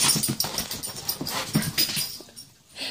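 An excited pet dog barks and pants close by, with quick, irregular bursts and breathy huffs, loud and continuous until a brief lull near the end.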